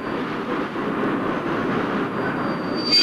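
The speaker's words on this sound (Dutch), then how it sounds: "begeleidde de chef Sint-Nicolaas naar de trein voor Amsterdam" Passenger train for Amsterdam at a 1960 Dutch railway station, giving a steady, continuous rumble and rolling noise throughout, with a faint high squeal rising near the end and no voices.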